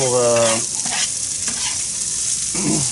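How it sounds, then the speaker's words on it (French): Onions sautéing in olive oil, a steady close sizzle and hiss with a few stirring scrapes, opening briefly over a harmonic tone and ending on a short low clatter. "Donc, on fait revenir tranquillement nos oignons."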